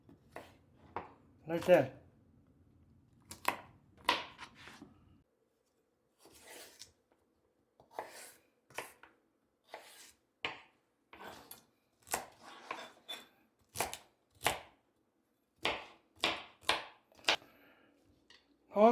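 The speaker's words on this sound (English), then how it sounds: "we're gonna cut it like little strip" A knife chopping pork into little strips on a board for a pork and celery stir fry, a run of sharp, separate cuts at an irregular pace, close and clear, with brief talk at the start.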